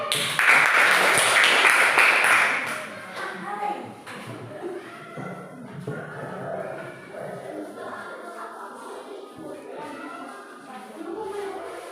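Short burst of applause for a student group after a classroom presentation, a couple of seconds of clapping from a small group followed by talking.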